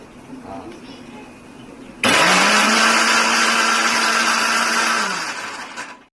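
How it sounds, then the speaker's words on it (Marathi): Kitchen mixer grinder whirring loudly as it grinds a spice paste, starting abruptly after a stretch of talk, running steadily for about three seconds, then winding down and stopping. "मला या मिक्सरची खूप भीती वाटते म्हणून मी ह्यांना सांगितलंय मिक्सर लावायला"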